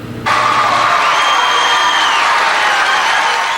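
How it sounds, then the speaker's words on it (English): A packed, unruly overflow crowd in a high school auditorium roars with cheering, jeering, whoops and applause, a loud continuous din that swells in abruptly and holds steady throughout. "oftentimes unruly crowd that packed the auditorium here at the high school tonight"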